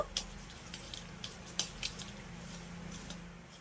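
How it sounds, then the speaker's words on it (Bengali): Whole cumin, fennel and nigella seeds fry in hot oil for a tempering, giving a steady low sizzle with a few sharp clinks of a utensil against the pan, close and fairly quiet. "এবার আমি এই ফোড়নগুলোকে খুব সুন্দর করে ভেজে নেব।"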